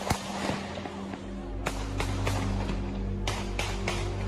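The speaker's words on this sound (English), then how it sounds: "multiple gunshots explode behind him." A rapid series of sharp gunshots crack out during a nighttime street shooting, several loud bangs spaced irregularly over a steady low rumble of crowd and background noise.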